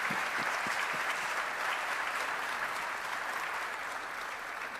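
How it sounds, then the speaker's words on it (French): An audience at an RDC–USA economic partnership event gives sustained applause, many hands clapping at a distance, fairly faint and gradually fading toward the end. "Je pense qu'elle mérite des applaudissements."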